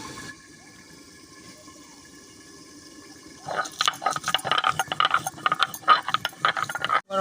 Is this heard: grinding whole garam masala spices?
yes